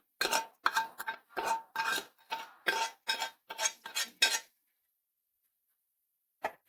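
Tempering poured into a pot of Chinese potato curry and stirred, a run of rapid rhythmic metallic scrapes and clinks of a spoon against the pot, then silence with one final faint clink.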